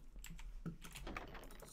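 Rapid typing on a computer keyboard, a quick cluster of faint clicking keystrokes over a low background hum, brief and quiet with no voices.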